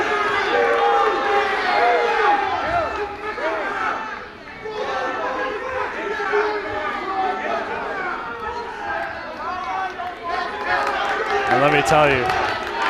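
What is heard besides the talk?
loud crowd in a gym at a wrestling match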